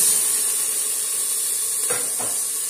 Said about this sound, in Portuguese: Vamos fritar aqui um pouquinho esse bacon.